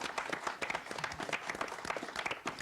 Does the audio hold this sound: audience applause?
yes